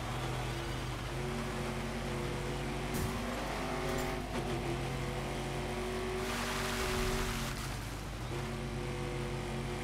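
BMW rally car engine in the racing video game Gravel, a loud sustained engine roar with shifting revs and gear changes, brief tire scrabble on gravel, no voices.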